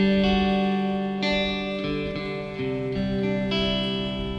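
An electric guitar with a clean tone through a tube amp plays sustained chords with lush reverb, each strum ringing and blending into the next, close and clear without talking.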